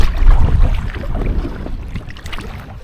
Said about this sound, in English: what we're doing is we're just paddling against the wind for a bit